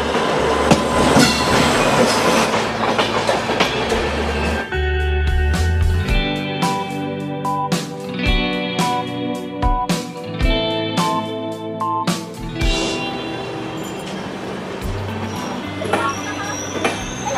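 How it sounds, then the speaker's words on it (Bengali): Passenger train from Lucknow to Haridwar running along the track, with a steady rumble first, then a rhythmic clickety-clack of wheels over rail joints and some squeal, loud and close throughout. "লখনৌ থেকে আমাদের ট্রেন ছেড়ে দিয়েছে।"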